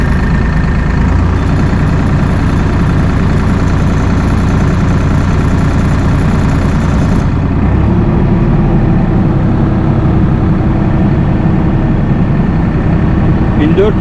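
An Erkunt 80.3 M tractor engine runs loud and close under load, a steady low diesel drone with a slight shift in tone midway as the speed setting changes.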